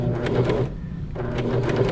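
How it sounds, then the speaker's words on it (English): A serger overlock machine stitches straight across a fabric sample with a fast, dense mechanical whirr. It pauses briefly mid-way, then runs on close by. "And so we are going to serge straight across here."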